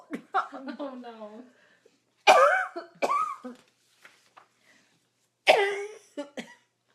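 An elderly woman coughs hard after swallowing wrong, several harsh, close coughs in separate bursts between stretches of near silence, with brief spoken words from her in between.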